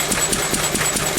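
A pre-electronic petrol engine runs close by with a steady, rhythmic chugging that picks up slightly in pace.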